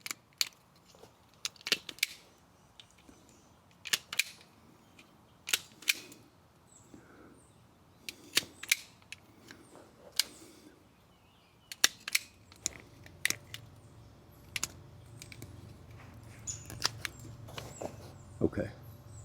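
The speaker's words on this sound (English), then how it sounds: "I'm just stripping the other wire." Electrical wire being stripped during wiring of a Hayward HD400 pool heater with a fireman's switch, heard as sharp, scattered clicks and snips spread across the stretch, with a low rumble entering near the end.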